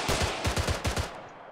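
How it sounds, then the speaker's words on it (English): Automatic gunfire from an AI soldier in the Arma 3 video game, a rapid burst of about nine loud, evenly spaced shots lasting around a second, then fading out. "Oh, he's shooting."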